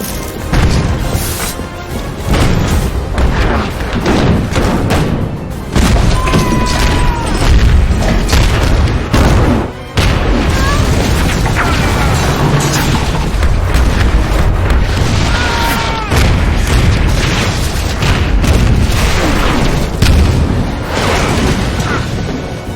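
Cannon fire from ships in battle rolls as continuous heavy booms and crashing blasts, loud and dense throughout with no pauses, layered over a turbulent roar.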